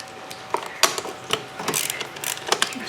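Screws being loosened by hand on a DeWalt lawn mower, a series of quiet ratcheting clicks and small metallic turns, irregular and close, with no talk.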